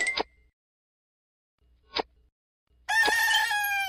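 A rooster's cock-a-doodle-doo sound effect from a children's phone toy, loud and clear, preceded by two short electronic blips with silence between them.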